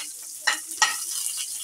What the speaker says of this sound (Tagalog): Okay, ngayon, kumulo na yung mantika.